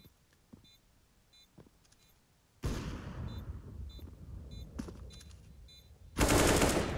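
Two loud, sharp AWP sniper rifle shots ring out in Counter-Strike: Global Offensive on the Mirage map, the first with a long echoing tail and the second near the end, over quiet game ambience with faint electronic beeps.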